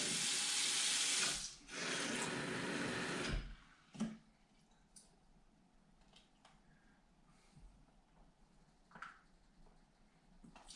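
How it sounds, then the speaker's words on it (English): Water runs from a tap into a sink in a steady, loud rush for about three seconds, briefly interrupted, then stops, leaving quiet room noise with a few small clicks and knocks. "I will just pour some water in the sink, submerge."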